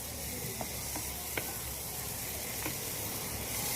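Meat sizzles and fries in a hot pan, a steady, fairly loud hiss with a few faint clinks from stirring, close and with no speech.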